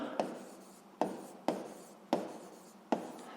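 Five quick hand-written strokes scratch across a surface, likely chalk or marker on a board during a physics lesson about friction forces, each stroke sharp at onset then trailing off, close and alone with no talking.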